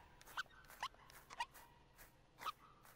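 Short, faint yips from a small fox in the video game Seasons After Fall, four quick high barks spaced irregularly over a few seconds against a quiet background.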